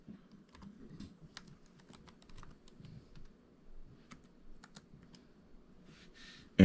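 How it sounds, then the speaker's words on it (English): Search text typed on a computer keyboard, a quiet, close run of irregular key taps and clicks, ending in a louder thump. "I go to my Google search bar and I type in civil rights restoration."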